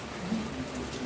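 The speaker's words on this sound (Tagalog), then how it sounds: "Nagpabasa sa ulan. Malinisan ang motor niya." Steady rain falls with an even, hissing patter and no voices.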